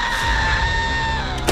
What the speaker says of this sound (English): Was that the Wilhelm scream?